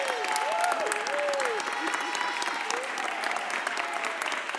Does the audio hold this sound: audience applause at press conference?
yes